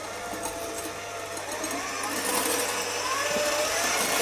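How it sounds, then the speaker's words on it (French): An electric mixer whips stiff egg whites with vanilla sugar, a steady high-speed whir that grows slightly louder and denser partway through, with no speech over it. "on ajoute le sucre vanillé et on va les serrer"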